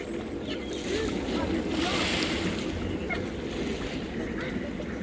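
Century-old water chute ride at Wicksteed Park, its boat splashing down into the pond with a swelling wash of water that peaks mid-way, then settles into a steady watery rumble with wind buffeting the microphone and voices around.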